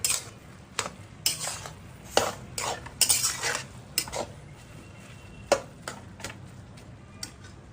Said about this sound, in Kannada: ಈಗ ಹಾಲು ಹಾಕ್ಕೊಂಡು ಸ್ವಲ್ಪ ಸ್ವಲ್ಪ ಮಿಕ್ಸ್ ಮಾಡ್ಕೊಳ್ಳಿ